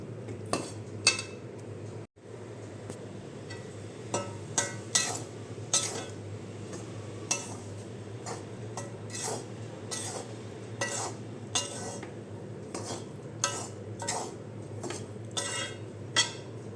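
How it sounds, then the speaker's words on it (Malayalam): Spoon scraping and clinking against a pan while roasted rice flour and coconut are stirred, repeated close-up strokes in a steady rhythm over a constant low hum, with no talk. "അരിപ്പൊടിയിൽ നന്നായിട്ട് ഇളക്കണം അടിയിൽ നിന്ന് ഇങ്ങോട്ട് ഇളക്കി ഇളക്കി ഇടണം"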